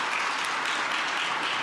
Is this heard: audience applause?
yes